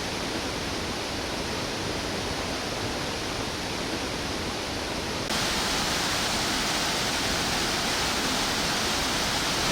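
A waterfall in Sri Lanka pours over rock slabs near Kitulgala, giving a loud, continuous broadband roar that swells slightly halfway through, with no voices.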